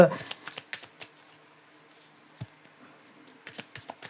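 Tarot and Lenormand cards are shuffled in a short run of crisp, close card flicks and taps, spaced out with a quiet pause in the middle.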